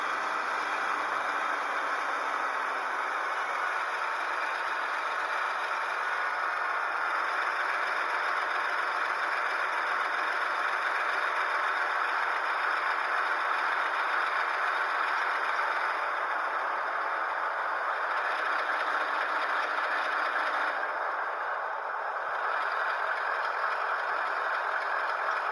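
An HO scale Athearn Genesis ES44AC model diesel locomotive runs its sound system at a steady idle, a continuous buzzing engine drone with a faint rattle that holds at an even level throughout.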